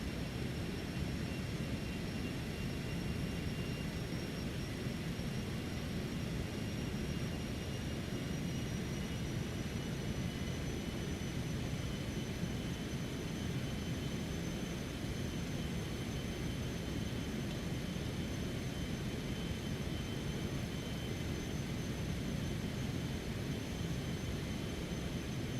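Steady, loud whine and roar of a Cessna Citation X business jet's engines climbing in a flight simulator, a constant unbroken drone with a thin high tone slowly rising over the full length.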